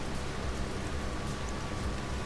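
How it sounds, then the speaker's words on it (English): Steady rain in Farming Simulator 25, a dense, even hiss of falling rain that holds at the same level throughout, with no talk. "When's it going to stop raining?"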